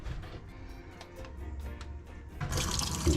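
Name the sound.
pouring RV antifreeze down a camper drain into the gray tank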